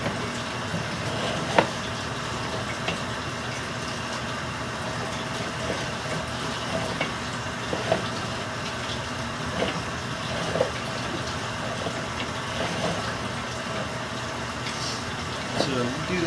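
Water runs and trickles through a residential sewer line during a camera inspection, a faint, steady wash with occasional small clicks and bumps throughout.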